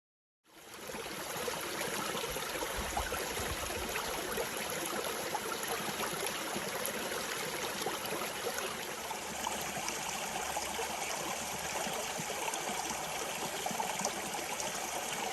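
A stream beside the Appalachian Trail flows steadily, producing a continuous broadband rush and trickle of water, close and even in loudness throughout with no voices.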